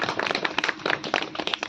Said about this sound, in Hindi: हम उनके लिए हम ताली बजाएंगे